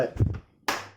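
Someone speaks briefly, then a single sharp hand clap rings out clearly after a short pause.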